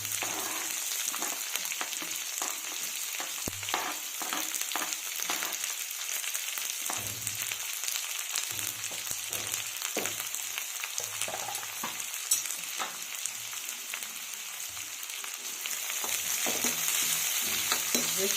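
Onions with green chillies fry for onion paratha in a steady, loud hissing sizzle, with occasional scrapes of stirring throughout and no talking.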